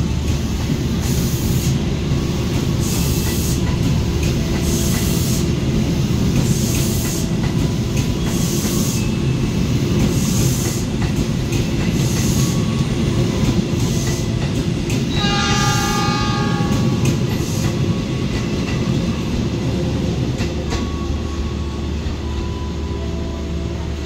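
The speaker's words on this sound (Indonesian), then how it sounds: "Ini kereta api Taksaka diberangkatkan dari Jatinegara, tujuan akhir Jakarta Gambir." Taksaka passenger train departing Jatinegara station in Jakarta, a loud steady rumble of engine and wagons close by, with a brief horn blast partway through and continuous clatter throughout.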